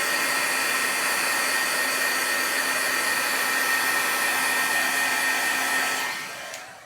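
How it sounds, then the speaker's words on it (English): A heat gun drying ink on a card blows with a steady, loud whirring roar close by, then winds down and cuts off near the end. "I give a little dry with my heat gun"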